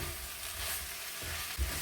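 Rainbow vegetables hiss and sizzle in a hot stir-fry pan as they are tossed, a close, steady frying noise with a soft clatter of stirring near the end.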